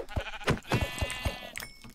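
A sheep in the video game Minecraft lets out a quick run of bleats, several short wavering cries in close succession at moderate volume, with no speech over them.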